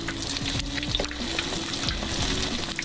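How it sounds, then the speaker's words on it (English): Oil sizzles and crackles steadily as recreated fast food items deep fry, a dense, continuous hiss with no talking. "deep frying is not the healthiest option here"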